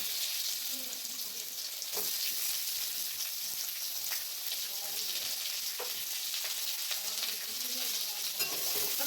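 Onions sizzle and crackle steadily in hot oil, a constant bright frying hiss with occasional stirring scrapes and pops.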